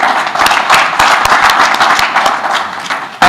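A conference audience applauds continuously, a dense wash of many hands clapping at close range that holds steady for several seconds.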